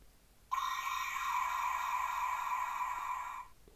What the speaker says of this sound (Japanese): これぞウルトラマンの変身音ですね